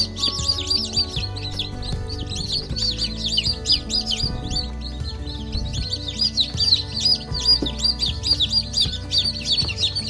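Day-old chicks newly hatched and moved into a brooder pen chirp constantly, a dense chorus of high peeping calls, close and continuous, over a low steady hum.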